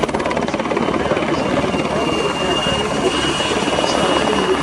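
Czech Air Force PZL-Swidnik W3A Sokol helicopter in a pair display at an air show, a loud continuous rotor thrum and turbine roar that holds steady throughout.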